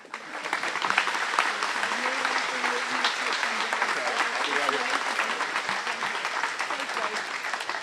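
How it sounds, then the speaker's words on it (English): Audience at the Manatee County Fair Distinguished Citizen Award ceremony claps steadily, a dense even patter of applause lasting throughout, with faint voices mixed in. "let's have one more round of applause"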